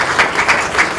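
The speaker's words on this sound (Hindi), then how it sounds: "ताली से जोरदार करें आप लोग" An audience claps enthusiastically to welcome a guest at a bhajan CD release programme, a short, dense burst of applause at close range.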